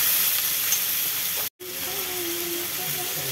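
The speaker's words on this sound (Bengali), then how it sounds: "পেঁয়াজটা লাল লাল করে ভাজা হবে" Onion fries in a pan for chicken kosha, a steady bright sizzle and hiss close by, broken by a brief cut midway before the frying noise resumes.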